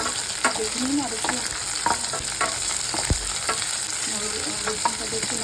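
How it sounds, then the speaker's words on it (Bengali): Garlic and onions fry in a pan with a steady sizzle while a spoon scrapes and stirs in irregular strokes, including one heavier knock against the pan, with no talking. "এবার রসুনটা নিয়ে আবার একটু নাড়াচাড়া করছি"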